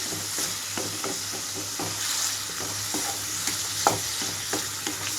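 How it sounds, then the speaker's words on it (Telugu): Paneer cubes fry in a pan for paneer fried rice, a constant close sizzle broken by light, evenly spaced spatula taps and scrapes, with no speech. "పన్నీర్ని ఇందులోకి వేసి వేయించుకుంటున్నాను ఎక్కువగా కదిలించకుండా జస్ట్ కొంచెంగా కదిలిస్తే చాలు"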